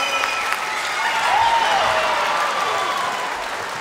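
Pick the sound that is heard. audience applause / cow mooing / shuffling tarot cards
audience applause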